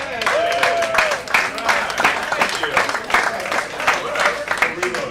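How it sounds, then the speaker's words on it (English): A comedy club crowd keeps applauding and clapping steadily throughout, a dense patter of many hands, while someone talks over it. "thank you for continuing to clap for me"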